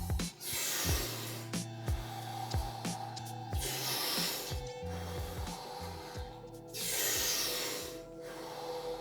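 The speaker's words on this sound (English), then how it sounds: "Breathe in and let go." Deep Wim Hof style breathing, with forceful inhales and relaxed exhales repeating in a steady rhythm close to the mic, each breath a rushing, airy whoosh, and calm background music running underneath.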